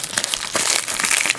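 Rubbery vinyl plastic packaging crinkles and crackles up close as it is cut and pulled open, a busy, uneven scratching rustle with a few sharper snaps.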